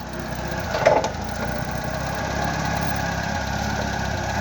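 Close, steady idle of a Toyota four-cylinder petrol engine in a 1.5-ton forklift, an even mechanical rumble with a brief louder bump near the start and no talking.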